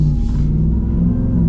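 A 2023 Ram TRX V8 pickup truck accelerates with a deep, loud, steady engine rumble heard from inside the cab.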